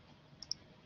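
Two quick, faint clicks of a computer mouse, close together, over a quiet background.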